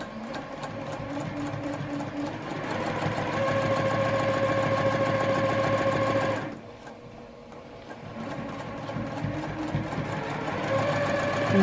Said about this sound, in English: And then you're just going to sew a nice 1/4 inch seam.